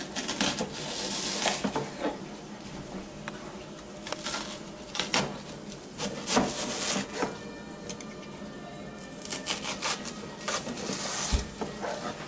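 A knife slices cooked duck into small pieces on a board, giving a run of quick, close chopping and tapping strokes in irregular bursts.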